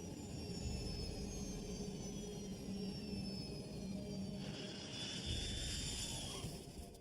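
Airliner jet engines during landing at touchdown as thrust is reduced: a steady, distant-sounding broadband roar with a faint whine that holds throughout at even loudness.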